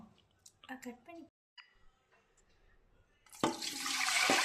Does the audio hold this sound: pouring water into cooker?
yes